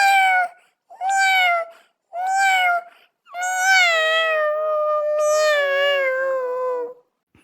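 A cat meows in the Scary Teacher video game, three short plaintive mewls followed by two long drawn-out wailing cries, loud and close with no talking.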